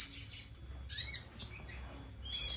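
Small birds chirping and tweeting in short bright bursts, several quick calls spaced across a couple of seconds, close and fairly loud over a quiet low background hum.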